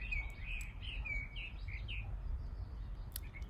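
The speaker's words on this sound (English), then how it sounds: "listening to wherever this bird is coming from that feels like it's right in my ear" A bird chirps outdoors in a quick run of sharp, high tweets that sounds close, carrying over a steady low rumble of background noise.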